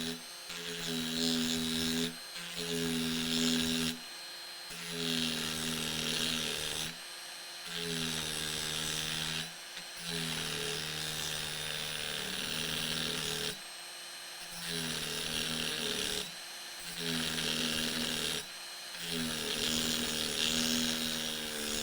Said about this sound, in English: I'm going to cut off this nut very carefully.